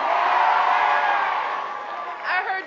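A rally crowd at a Michelle Obama speech in Delaware roars and cheers loudly and continuously, with a burst of whoops near the end.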